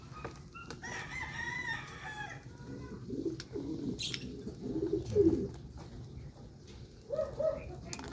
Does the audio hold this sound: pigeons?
yes